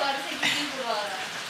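Steady rain falling outdoors, a dense continuous hiss close by and fairly loud, with a voice speaking faintly over it.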